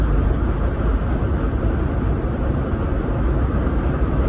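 Broadband road noise of a car moving at speed fills the cabin, a continuous loud rushing rumble with no talking.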